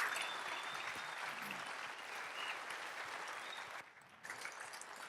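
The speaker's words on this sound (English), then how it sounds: "You give a round of applause to that." Applause from an audience at a sports character combine event, a dense continuous wash of clapping with a brief dip near the end before it resumes.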